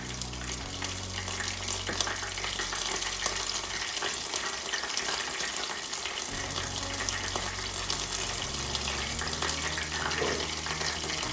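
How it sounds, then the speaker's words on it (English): Breaded plaice frying steadily in hot oil, a continuous crackling sizzle with a low hum running underneath throughout. "As oil gets hotter, it doesn't take as long to cook."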